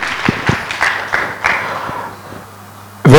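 Applause and clapping from an audience at a rally event, a steady wash of hand claps for about two seconds that thins out and fades, followed by a sudden louder burst at the end.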